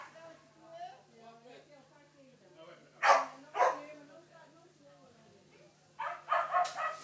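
Whippets at a dog race give a few sharp barks and yips in short bursts, heard over a man's ongoing announcer-style commentary.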